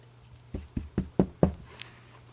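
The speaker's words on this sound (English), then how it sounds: "I'm going to walk to the temple and knock on the door." Five firm knocks on a temple door, spaced evenly at a steady rhythm and heard close and clear, followed by a faint higher metallic sound near the end.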